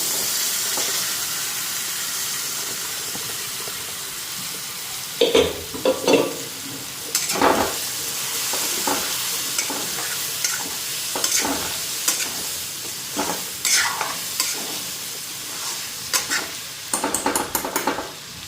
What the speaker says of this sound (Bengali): তো এইদিকে মশলাও ভাজা হয়ে গেছে। এখন চানাটা আর ইয়েটা দিয়ে দিই।